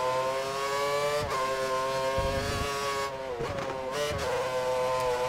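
A Formula 1 car in F1 2013 during qualifying at Suzuka, its engine screaming at a steady high pitch with brief dips for gear changes and braking before it revs back up, loud and continuous with no talk.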